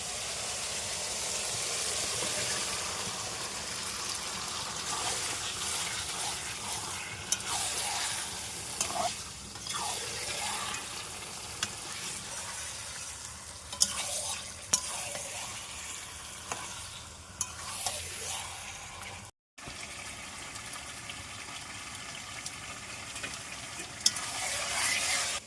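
Chicken pieces tipped into a cooked-down spice paste for a home-style chicken curry, frying with a steady broadband sizzle while a spoon scrapes and stirs in irregular clacks, running continuously with a brief dropout near the end; no one speaks.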